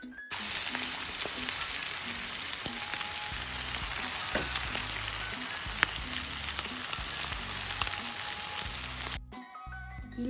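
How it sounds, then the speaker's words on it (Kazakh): Napa cabbage and meat fry for Uyghur lagman in a hot pan, giving a steady, loud sizzle with scattered spatters and stirring clatter. The frying runs almost the whole time, then cuts off abruptly near the end. "Пекин капустасында үстіне 2 минут қуырамыз."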